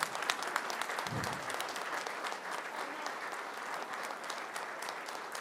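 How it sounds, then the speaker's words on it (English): Audience applause at a university hall of fame ceremony, a sustained even patter of many hands clapping in a hall, moderately loud and continuous throughout with no talk over it. "Let's give a round of yeah, applause how about then."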